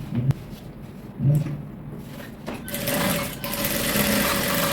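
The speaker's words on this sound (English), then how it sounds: "Then I'm just going to sew." A sewing machine stitches Ankara fabric for palazzo pants, its motor whirring steadily up close and building to a continuous high buzz partway through, without any talking.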